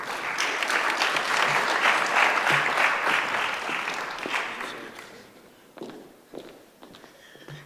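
An audience at a memorial service applauds loudly for several seconds, then the clapping thins out to a few scattered claps and taps.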